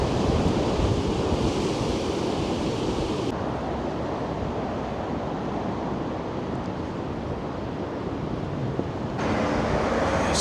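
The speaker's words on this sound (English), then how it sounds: "how strong, these gusts of wind really are" Steady, loud wind roars and buffets against the microphone in Blackpool after a storm, with broadband rushing noise and no voices.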